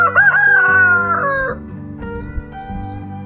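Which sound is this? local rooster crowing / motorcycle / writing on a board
local rooster crowing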